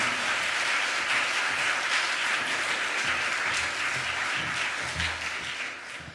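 Steady, sustained applause from a church congregation celebrating a pastor's ordination service at Eunhye Dream Church, dense clapping holding for several seconds before tapering slightly at the end.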